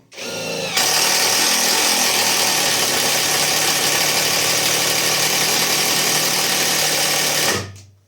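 A loud, steady whine from a Catpower 4226 cordless drill with a 35 mm spade bit runs continuously for several seconds, starting abruptly and winding down at the end, straining against material.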